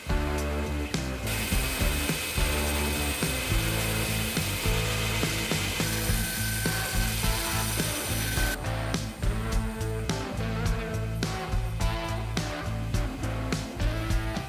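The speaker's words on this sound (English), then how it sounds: "I use the belt sander to clean and straighten my cuts" A belt sander grinds continuously and loudly against the cut edges of a metal AK magazine, with rhythmic rattling and scraping bursts as the piece is worked against the belt.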